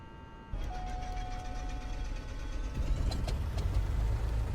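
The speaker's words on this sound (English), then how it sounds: "Okay, engine start sequence." Single-propeller Diamond DA40 aircraft engine starting in Microsoft Flight Simulator, heard as a low steady rumble that settles into an even idle, with faint ticking and clatter over it and no voices.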